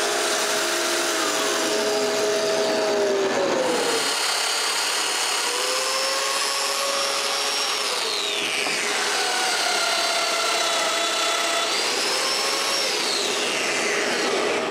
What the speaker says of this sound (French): Ensuite, je peux percer les mortaises d'un traverse.